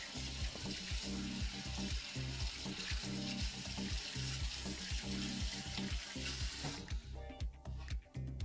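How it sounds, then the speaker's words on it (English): Tap water runs over a utensil to rinse off cake batter in a home kitchen. The splashing is steady with regular low thumps, then becomes broken and sparse toward the end. "I'm gonna rinse cake batter off of this first."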